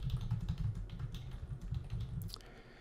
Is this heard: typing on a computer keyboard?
yes